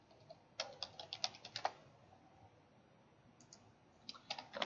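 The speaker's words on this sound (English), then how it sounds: "I'll type in 8" Light clicking of keys typed on a computer keyboard, a short burst of quick taps, a pause, then a few more taps, close and fairly quiet with no talking.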